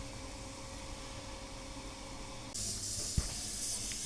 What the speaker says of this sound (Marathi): चहा उकळलंय त्याच्यात दूध घालून घेणार